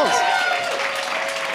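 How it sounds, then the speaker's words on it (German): Studio audience applause at a German quiz show, a dense steady wash of clapping that fills the whole moment with a host's voice briefly over it. "Lina, großen Applaus."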